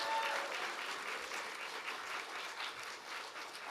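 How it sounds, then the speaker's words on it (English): Faint, distant applause from a crowd at a university graduation ceremony, a continuous soft patter of many hands clapping with no voices. "give yourselves a special round of applause"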